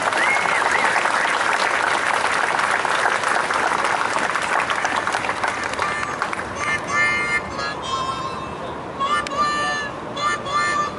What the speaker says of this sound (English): let's have a round of applause for Will Behrens, the sculptor